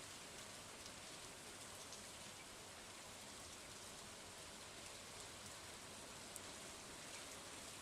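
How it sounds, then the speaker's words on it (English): Steady rain pours in the Stardew Valley video game, a dense, even hiss that stays constant and fairly quiet with no pauses, and no voices over it. "Making us wait out in the rain."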